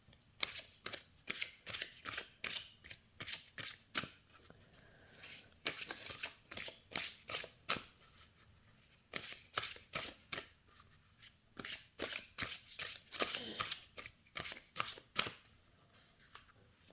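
Oracle cards being shuffled by hand, with repeated crisp riffling bursts in a steady rhythm, close and fairly quiet, with no talking.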